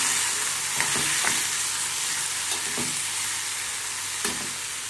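Pigeon peas being fried and mixed into masala in a pan, a loud continuous sizzle with a few soft spoon knocks and scrapes, close with no voices.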